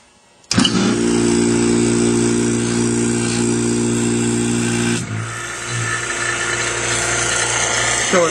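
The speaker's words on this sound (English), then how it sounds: "we'll go ahead and turn the pump on and show you that it does indeed work" A Leybold Trivac D16B rotary vane vacuum pump switches on abruptly and runs with a loud, steady motor hum and hiss, which drops to a slightly quieter tone partway through.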